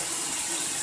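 Tap water gushing steadily into a container during water filtering for near-zero TDS, a continuous broadband rush that stays loud and even throughout with no talk.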